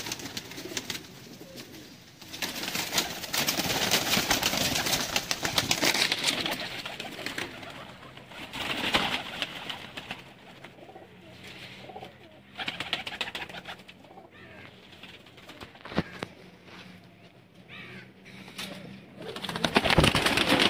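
Pigeons coo repeatedly in a loft of Sialkoti pigeons, with soft rolling calls from several birds overlapping at moderate distance and a few sharper flutters and knocks between them.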